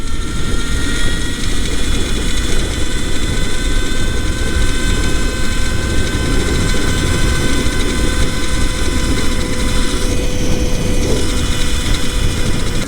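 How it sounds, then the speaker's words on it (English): Spliced drive chain, two chains joined together, rubbing on an electric cafe racer motorcycle during a road ride, giving a steady, dense mechanical ratcheting rattle that runs continuously and close throughout. "it's rubbing quite a bit, and it is two chains spliced together"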